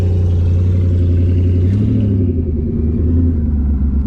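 A twin turbo Ford Coyote street car engine with a manual boost controller and an aftermarket transmission rumbles loudly and close as the car creeps forward, its low drone shifting in pitch partway through.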